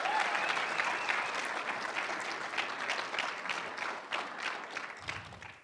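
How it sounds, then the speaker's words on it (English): A live audience gives a round of applause for Nate and Andrea Cook: dense, steady clapping close by that holds for several seconds and eases slightly toward the end. "So would you give Nate and Andrea Cook a round of applause"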